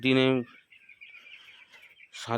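Seven-day-old chicks on a farm keep up a faint, continuous high peeping chorus, with a voice speaking briefly at the start and again at the close.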